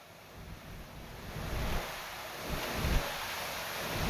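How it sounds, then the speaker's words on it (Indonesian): Strong wind roars and gusts against the microphone while high sea waves surge and wash in at Merak Port, Cilegon, Banten, Indonesia, during extreme weather, loud and continuous. "Kencangnya hembusan angin serta tingginya gelombang laut membuat kapal sulit bersandar di dermaga"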